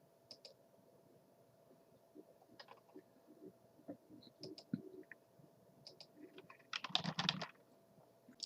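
Keys on a computer keyboard are tapped in scattered, irregular bursts, quiet and close, with a louder cluster of rapid keystrokes near the end over a faint background hum.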